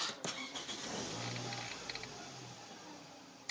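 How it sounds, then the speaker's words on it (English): Car engine starting up with a brief starter crank, then settling into a steady low idle. The car is being checked after a fault code was cleared. The engine runs continuously and fairly quiet with a few faint clicks. "Let me start the vehicle."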